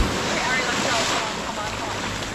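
Ocean surf rushes up a Trinidad beach, a loud continuous wash of breaking water mixed with wind buffeting the microphone.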